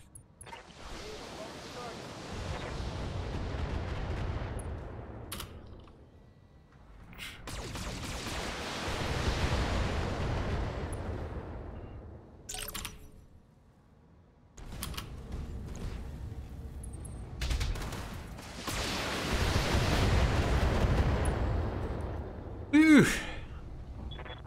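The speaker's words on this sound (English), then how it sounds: "I'm under heavy fire here" Heavy weapons fire pounding mechs in the video game Battletech: three long, loud bursts of rumbling, roaring barrage, each swelling and fading, separated by brief lulls, with a sharp ringing impact near the end.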